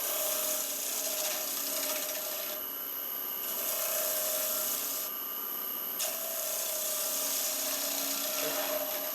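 Olive burl wood being cut on a spinning lathe, a steady rasping scrape with a whining hum, easing off briefly twice before resuming.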